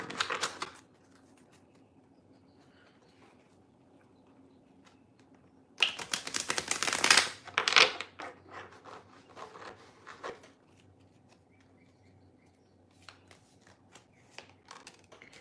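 Cards riffle and shuffle in a crisp burst of flapping clicks, with a short rustle at the start and scattered light taps afterward.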